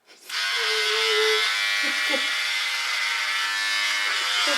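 Electric hair clippers buzz loudly and steadily for several seconds during a home haircut, starting abruptly and holding a close, bright hum with slight changes as the blade moves through hair, with brief voices faintly underneath.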